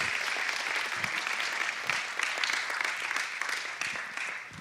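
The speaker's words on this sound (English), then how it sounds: "Let's give him a round of applause." An audience's round of applause at a sheriff officer's talk on bullying, a sustained, even patter of many hands clapping.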